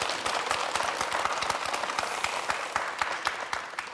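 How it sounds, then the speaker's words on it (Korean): A studio audience on a Gwangju MBC local broadcast about Buk-gu district applauds officials with brisk, dense clapping, many distinct sharp claps in a steady stream that tapers slightly at the end, with no talking over it. "박수 한번 주십시오."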